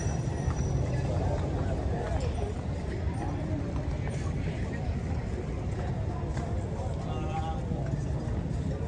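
Horse hooves clip-clop steadily on a hard street while people talk over them.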